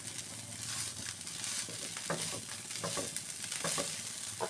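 Fish heads and gourd peel are stirred and fried in a pan, giving a soft continuous sizzle with scraping stirs, close and fairly quiet.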